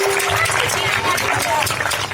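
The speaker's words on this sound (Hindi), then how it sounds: "जोरदार तालियां से इन बच्चे की हौसला अफजाई करें" Audience applause for a child after a Republic Day speech in Urdu: a dense wash of clapping lasting the whole two seconds, with a steady low hum and some crowd noise beneath it.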